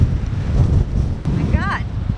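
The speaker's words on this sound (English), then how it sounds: "This is the windiest place I've ever been." Strong gusting wind at the Grand Canyon South Rim buffets the microphone with a low, rumbling roar that rises and falls, and a voice exclaims briefly over it.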